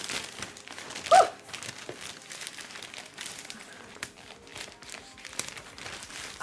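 Close, intermittent crinkling and rustling of plastic wrapping as a package is handled and opened, with one sharper crackle near the start.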